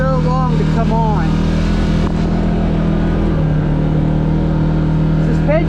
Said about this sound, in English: Mid and high end of this engine, it screams, it gets off, feels like it's had plenty of power